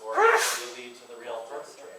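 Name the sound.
sneeze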